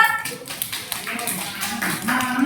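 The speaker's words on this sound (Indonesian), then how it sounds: "Tepuk tangan buat kelompok 2." Students in a classroom clap for a presenting group, a brief scattered patter of hands with some voices mixed in.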